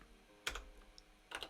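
Two short bursts of computer keyboard typing, each a quick cluster of key clicks, close and fairly quiet, separated by near silence.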